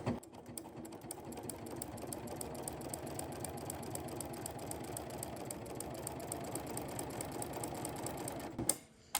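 A domestic sewing machine runs steadily for about nine seconds, stitching prairie points on a quilt with sideways motion stitching, its rapid needle rhythm constant and close before stopping abruptly near the end.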